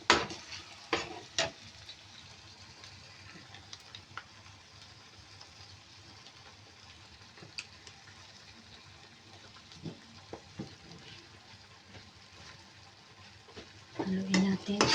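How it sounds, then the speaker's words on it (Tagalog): Creamy penne pasta being stirred with tomato sauce in a pan, giving intermittent scraping and clinking strokes over a low sizzle, with a few sharper utensil knocks near the start and end. "haluin na natin"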